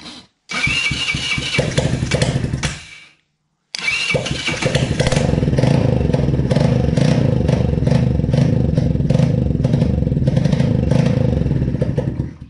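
A quad ATV fitted with a new engine cranks briefly, cuts out, then fires and keeps running loudly and steadily with a rough, clattering idle.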